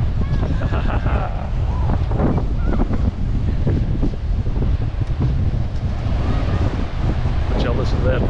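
Strong wind gusts blowing steadily across the open seafront near large swells, a loud continuous rumbling roar buffeting the microphone throughout, with faint voices occasionally underneath.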